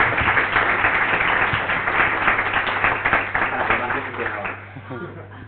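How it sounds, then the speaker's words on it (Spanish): An audience at a VueJS meetup applauding Carlos, a dense, steady round of close clapping from a room of people that tapers off toward the end, with voices underneath. "un aplauso a Carlos"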